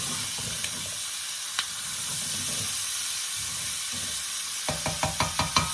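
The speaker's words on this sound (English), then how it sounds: "You are going to saute these for about 8, maybe 10 minutes, just until they start softening up." Chopped vegetables for a bacon and bean stew sauté in a pan with a steady, close sizzling hiss, and a run of quick clicks near the end as they are stirred.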